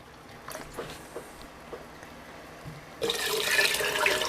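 Distilled vinegar is poured from a measuring cup into a pot of water for pickling Brussels sprouts, a bright splashing stream starting abruptly after a few quiet clinks and continuing steadily, close by.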